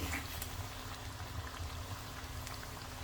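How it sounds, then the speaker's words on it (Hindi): Besan tikki fry in oil over a low flame, giving a steady, continuous sizzle and bubbling hiss without pause, close and moderately loud, with no voices. "इसे लो फ्लेम पर आगे पीछे करके फ्राई करते रहें जब तक एकदम गोल्डन नहीं हो जाए।"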